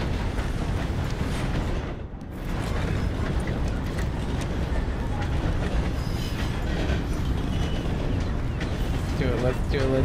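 A train in a video game passes with a loud, continuous rail rumble and clatter that fills the whole stretch, with a streamer speaking over it.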